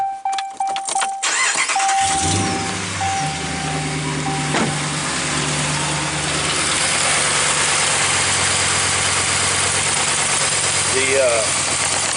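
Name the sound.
2015 RAM 1500 pickup truck engine starting and idling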